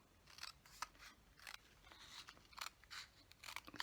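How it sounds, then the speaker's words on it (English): Scissors snip through paper card being trimmed for a handmade card, giving a quick run of close, crisp cuts in uneven rhythm, about a dozen short bursts in quick succession. "maybe I'll just trim that off a little bit"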